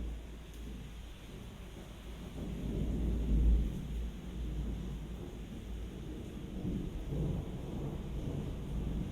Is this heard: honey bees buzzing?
no